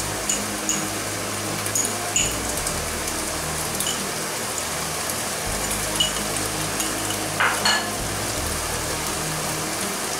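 Goulash meat being stirred with tomato paste in a pot for a German-style tas kebab, a steady wet sizzle and scrape that runs evenly throughout with no talking.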